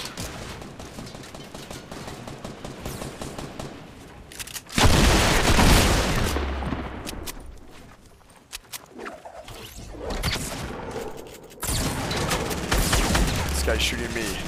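Gunfire rattles in the video game Fortnite, with rapid bursts and heavier booming shots in clustered volleys, loud and close, with a player's voice talking over parts of the fight.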